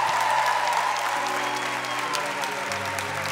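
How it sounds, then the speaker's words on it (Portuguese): A church congregation at a Marian prayer night applauds for Jesus, a steady wash of many hands clapping at full volume, with sustained sung or spoken tones running underneath. "Dá uma salva de palmas bem grande a Jesus."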